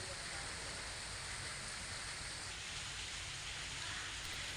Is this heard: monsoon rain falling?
yes